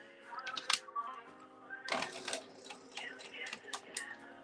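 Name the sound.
sewing machine stitching scrap fabric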